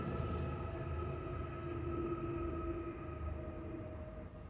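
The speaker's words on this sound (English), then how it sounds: "Train." Faint, steady rumble of a train rolling by in the distance, with a sustained tonal hum and clatter and no voices.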